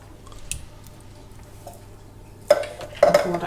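A spoon stirring tinned chopped tomatoes into a moussaka base of mince and reduced red wine in a pan, with faint scrapes and then two louder wet, squelching stirs near the end.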